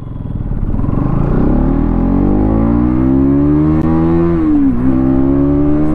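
A 2024 Bajaj Pulsar NS200 engine revs hard and close, its pitch climbing steadily through the gears, then dipping briefly on a shift before pulling again, with no talking.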